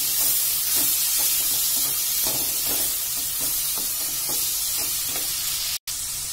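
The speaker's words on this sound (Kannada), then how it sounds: "ಇವಾಗ ಟೊಮೊಟೊ ಎರಡು ಕಟ್ ಮಾಡಿಟ್ಕೊಂಡಿದ್ದೀನಲ್ಲ ಅದು ಹಾಕೊಳ್ತಾ ಇದ್ದೀನಿ" Chopped tomatoes added to a hot pan while cooking suvarnagedde palya, a yam stir-fry, giving a loud continuous sizzle and hiss with soft rhythmic stirring scrapes, close and steady, cut by a brief dropout near the end.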